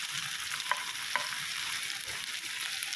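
Onion sizzles and fries in a pan, a steady bright hiss with a few faint clicks of stirring, close and fairly quiet, with no voices.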